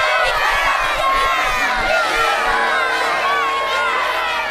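Crowd of children shouting and cheering for Miss Picrezin at a strawberry blossom festival vote, a loud, sustained roar of many young voices with excited whoops, near and continuous throughout.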